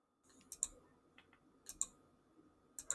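Sharp computer mouse clicks land in small pairs and clusters, close and crisp, over a faint steady hum in a quiet room.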